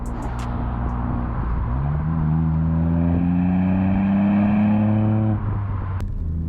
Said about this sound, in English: we steer the car as we drive as fast as we are legally allowed in the UK